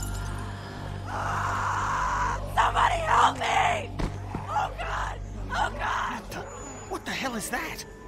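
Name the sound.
girl screaming in The Walking Dead video game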